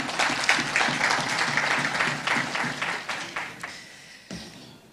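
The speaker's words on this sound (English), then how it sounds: "Please give yourself a round of applause" Audience at an awards ceremony for top achievers applauding in a hall, a dense, steady wash of clapping that fades toward the end and stops abruptly, with a brief murmur of voices.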